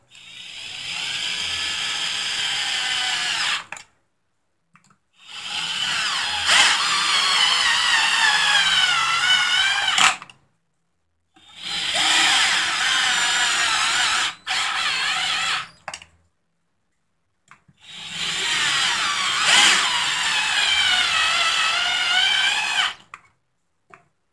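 A power driver runs down the crankcase screws on a Stihl MS660 chainsaw in four separate bursts of high whirring motor whine, each lasting a few seconds, with short silent pauses between them.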